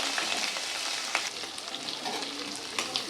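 Ground onion, green chili and garlic hit hot oil, a dense, continuous crackling sizzle with scattered sharper pops and faint stirring sounds, close and fairly loud.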